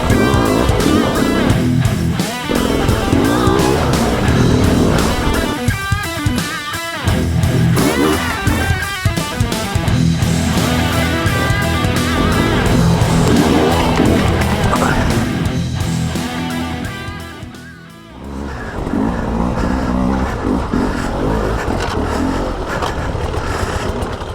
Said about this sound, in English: You guys hear the pegs dragging through there?